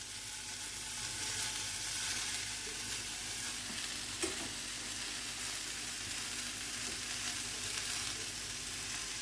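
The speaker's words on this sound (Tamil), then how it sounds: "அதே பேனில் எண்ணெய் போடாமல் நம்ம வெறும் அந்த கீரையை மட்டும் போட்டு கொஞ்சம் நேரம் பாயில் பண்ணணும்." Gongura leaves cook in a dry pan without oil and make a continuous low sizzle and crackle with faint stirring scrapes, even and quiet throughout, with no talking.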